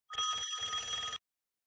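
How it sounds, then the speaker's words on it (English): A telephone bell rings in a single loud, close burst of about one second, with a brief gap partway through, and then falls silent. "Someone answer the phone."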